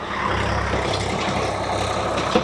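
Swaraj four-wheel tractor running with a rotavator during tillage, a steady, dense engine and machinery rumble held at constant loudness throughout, fairly close with no voices.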